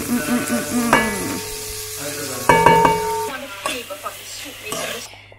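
Butter bubbling and sizzling in a pan at close range, a steady crackling fry broken by a few clinks of a utensil stirring against the pan.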